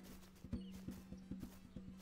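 Horse in a video game, steady clip-clop hoofbeats in an even rhythm, faint and close, over a constant low hum, no talk.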